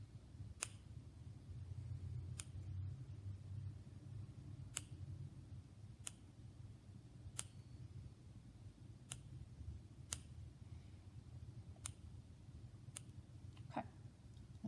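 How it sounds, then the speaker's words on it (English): Scissors snipping a lace trim motif loose, with about a dozen crisp, faint clicks spaced roughly a second apart over a low, quiet room hum. "simply snip the little motif that you want loose"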